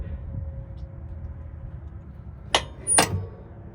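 A side panel on a John Deere Z930 zero-turn mower deck is swung shut, giving two sharp metallic clanks about half a second apart over a low background rumble.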